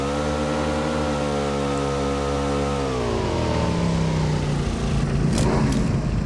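Buggy engine in PUBG revving steadily with a strong harmonic drone, the pitch dipping and becoming rougher midway, loud and close with no talk over it.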